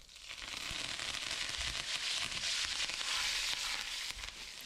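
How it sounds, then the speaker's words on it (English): Cumin, crushed garlic, red chilies and curry leaves fry in hot oil, giving a steady close sizzle with dense crackling pops that hold throughout and ease off slightly at the end. "Let it fry nicely and remove from the heat"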